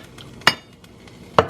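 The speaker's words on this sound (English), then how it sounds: "Give it a stir" A spoon stirs chicken and rice broth in a pot, making two distinct clinks against the pot over a quiet simmering background.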